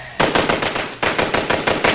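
Rapid automatic gunfire from a video game, a loud, continuous burst of evenly spaced shots that pauses briefly and then resumes in the same steady rhythm.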